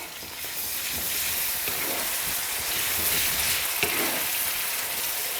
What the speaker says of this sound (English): Okay, mix it all together.